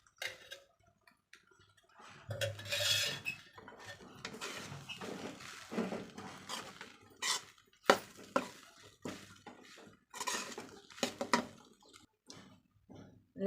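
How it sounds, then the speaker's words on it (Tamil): Mint rice is stirred in a pan with a spoon, giving irregular scrapes and light clinks that come and go at close range, with no talking. "சாதம் சேர்த்துட்டு நல்லா கிளறிக்கலாம்"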